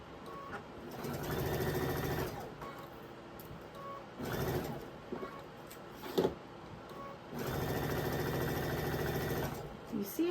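A sewing machine stitching a quilt block at a quarter-inch seam, running in several steady whirring bursts separated by pauses, close and moderately loud with a voice speaking in between.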